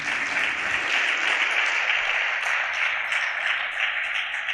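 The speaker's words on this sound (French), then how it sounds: "Je vous demande tout simplement de les applaudir." A conference audience at an inauguration session in Tangier claps for visiting guests, loud sustained applause filling the room evenly from start to finish.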